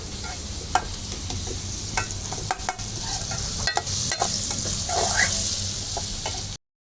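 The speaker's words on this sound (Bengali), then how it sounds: "এখন পেঁয়াজ এবং রসুন লাল না হওয়া পর্যন্ত আমরা অপেক্ষা করব এবং ভাজতে থাকবো" Onion and garlic fry in oil with a steady close sizzle, while a utensil stirs through the pan in scattered scrapes and taps over about seven seconds; no one speaks.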